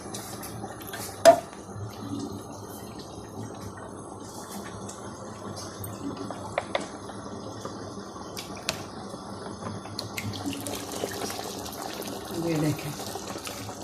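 More liquid is poured into a pot of nearly finished Lahori-style nihari, a steady close trickle of pouring with a sharp clink of the pot early on, while someone speaks briefly.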